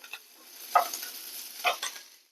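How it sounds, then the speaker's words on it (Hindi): Chopped onion and green chili sautéing in a pan, a light hiss punctuated by a few brisk stirring scrapes, close and quiet, with no talk. "और इन सब दोनों चीज़ों को हम अच्छे से भूनेंगे इस तरह से"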